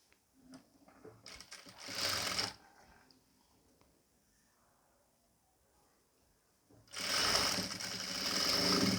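A sewing machine stitches the neck of a nighty in two bursts, a short run followed by a longer steady whir after a quiet pause, close and fairly loud.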